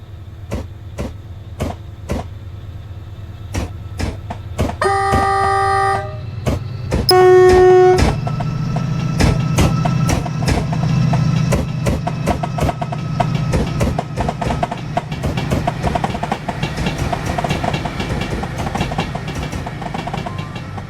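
A locomotive departs a station hauling rail wagons, its horn sounding loud and close in two blasts amid steady rhythmic clickety-clack of wheels over rail joints and a low engine rumble.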